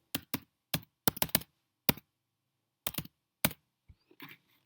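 Isolated keystrokes clack on a computer keyboard, close and crisp, a short irregular run of taps with gaps between them in a quiet room.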